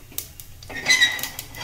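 Cumin seeds dropped into hot oil in a pressure cooker on a gas stove, a light metallic clink followed by a soft rising sizzle and faint crackling, close and fairly quiet.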